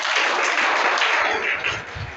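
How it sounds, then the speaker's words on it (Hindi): Audience at a school quiz session at SBS Inter College in Mathiya, Ambedkar Nagar, claps to reward a correct answer: a dense, steady patter of many hands, fairly close and loud, tapering slightly toward the end. "सही जवाब के लिए आप तालियां बजाइए।"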